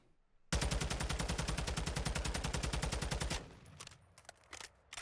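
A TAQ 56 rifle in Call of Duty fires a loud, sustained burst of rapid automatic shots lasting about three seconds, then trails off into a few quieter clicks and thumps.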